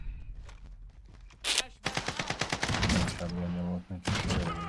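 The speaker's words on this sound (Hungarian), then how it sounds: "Egy shotgun lövés." A shotgun blast in the Call of Duty Warzone battle royale shooter: a sharp loud crack followed by a rapid string of gunfire bursts, with someone talking underneath.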